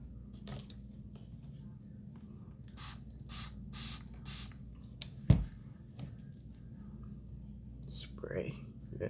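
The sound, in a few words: spraying adhesive remover on lace wig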